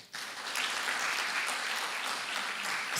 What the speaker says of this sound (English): Let's give Miss Florence a good clap